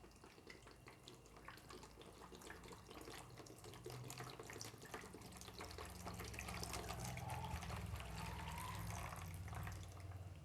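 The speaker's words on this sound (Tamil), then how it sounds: "1 லிட்டர் அளவு நான் இந்த பாட்டிலில் தண்ணி அளந்து ஊற்றிக்கிறேன்." Ordinary tap water runs steadily from a faucet into a bottle as about a litre is measured out, a continuous close rushing stream that grows slightly fuller toward the end.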